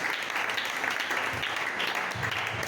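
Church congregation breaks into sustained, steady applause, many hands clapping together in a full, continuous roar that fills the worship hall.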